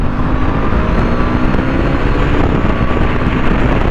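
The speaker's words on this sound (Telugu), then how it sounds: "మనకి రేవ్ మ్యాచింగ్ చేస్తూ మీరు గేర్స్ కూడా డౌన్ చేయొచ్చు అండ్ అలాగే గేర్స్ కూడా అప్ చేయొచ్చు అనమాట వితౌట్ క్లచ్" A 2024 KTM RC 200 Black Edition motorcycle under way, its engine a loud, steady, close drone with road and wind roar, holding an even note through clutchless rev-matched gear changes.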